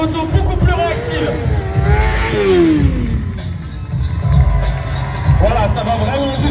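Motorcycle fitted with a shorter transmission revving and rising in pitch amid an excited crowd, engine roar over continuous crowd noise with someone talking throughout.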